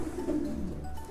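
Low, soft cooing from ageing racing pigeons of the King breed in a loft, a steady murmur at moderate distance with no talk.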